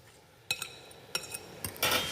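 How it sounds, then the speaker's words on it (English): A spoon clinks several times against a bowl while butter is stirred into a cheese mixture: sharp, separate taps about every half second, ending in a brief, busier scraping rattle. No talking. "put the butter into that cheese mixture. Stirring that together."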